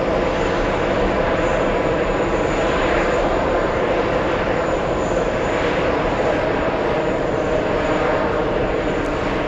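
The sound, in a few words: Delta Airbus A330-300 jet taking off at JFK airport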